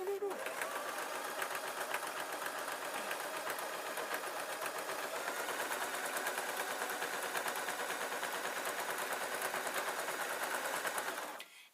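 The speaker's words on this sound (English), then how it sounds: "Now, all I need to do is sew up to the end" Sewing machine stitching a seam on a fabric tablet sleeping bag, a fast continuous mechanical chatter running nearly the whole time before stopping at the end, close and steady.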